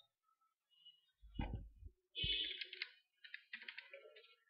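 A computer keyboard is typed on while signing up for a webmail account: a few quiet, scattered keystrokes and clicks in a short, uneven burst, close and alone.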